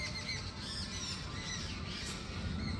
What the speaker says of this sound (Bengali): চারিদিকে শুধু পাখির কিচিরমিচির আওয়াজ